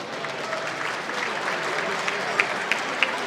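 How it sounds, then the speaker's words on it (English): Steady audience applause fills the room at an evening event, a dense wash of clapping with a few sharper individual claps standing out near the end. "let's give us a big round of applause for John Bodehouse."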